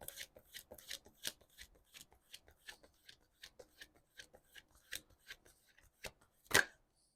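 Tarot cards are shuffled and handled, a quiet irregular series of soft rasping flicks and slaps close by, ending in a sharper card snap, no talk.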